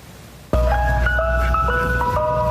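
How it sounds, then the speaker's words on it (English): An ice cream truck's jingle starts abruptly after a moment of quiet and plays a loud, close melody of bright sustained electronic notes, with a low engine rumble underneath. "he hears that ice cream truck jingle"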